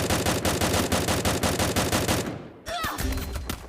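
Rapid automatic gunfire in the Free Fire shooting game, a dense sustained burst of evenly spaced shots that cuts off abruptly, followed by scattered game effects and brief talk.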